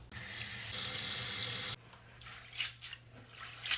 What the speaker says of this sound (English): Next, let's soak this in water.